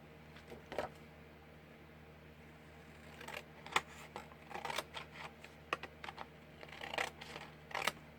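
A piece is cut off during a refurbished book project, heard as quiet, sparse snips and sharp clicks spaced irregularly over a low background hum.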